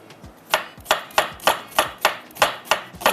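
A knife chops through onion on a cutting board in eight steady, evenly spaced strokes, each a crisp, loud thud close by, with no talking.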